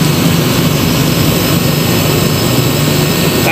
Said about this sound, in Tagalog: tahimik yung compressor natin. Umaandar yung unit.